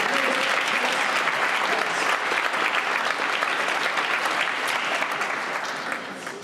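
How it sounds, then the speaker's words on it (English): Dense, steady applause from an audience cheering for a group of kids after a performance, loud and continuous before tapering slightly at the end. "Give these kids a round of applause."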